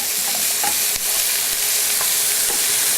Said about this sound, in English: we don't really need to saute this a lot, just a little bit